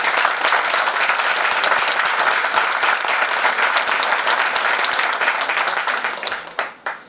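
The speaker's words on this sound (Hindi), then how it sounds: "ताली बजाइए इन लोगों के लिए" An audience at a motivational training session claps steadily for first-time attendees, a dense, sustained burst of applause that thins out and trails off in the final second.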